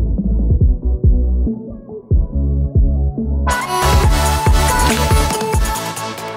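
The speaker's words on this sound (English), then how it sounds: "today we're gonna show you how to create the audio muffle effect" Music is processed with a muffled underwater effect in Premiere Pro, giving dull, thudding low beats with the highs cut, before the full bright mix suddenly returns partway through.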